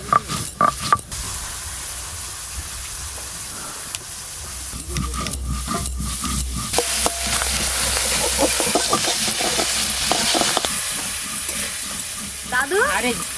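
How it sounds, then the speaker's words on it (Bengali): Hilsa fish heads frying in hot oil, loud continuous sizzling with crackles and clattering utensil knocks, some brief voices in the background. "ইলিশ মাছের মাথাগুলো খুব ভালো করে ভেজে নেব"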